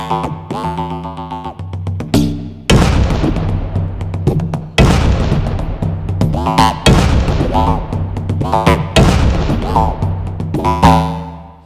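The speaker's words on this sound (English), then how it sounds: "that's one of the original Wavedrums preset, so gunshot or explosion on the rim" Korg Wavedrum X electronic percussion preset triggered on the rim, producing a series of loud booming gunshot- and explosion-like hits with decaying tails, some played in quick succession over a sustained tonal drone.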